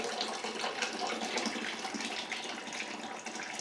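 Hot water drains steadily out of a bourbon mash tun, a continuous rushing, splashing flow at close range with no pauses, like a tap running into a basin.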